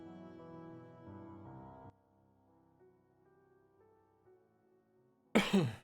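A single abrupt, close cough bursts out near the end, following a few seconds of soft tonal music with no talk.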